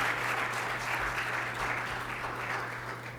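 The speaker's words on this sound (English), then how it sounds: "big round of applause" A forum audience applauds panelists at a Social Security discussion: a sustained, even patter of many hands clapping at moderate distance, with a low steady hum beneath.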